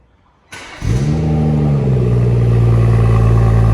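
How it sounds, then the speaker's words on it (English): A BMW 440i M Sport coupe's six-cylinder engine cranks to life after a short quiet moment, flares up sharply, then settles into a loud, steady, close-up drone at raised revs. "Lovely sound from that six-cylinder"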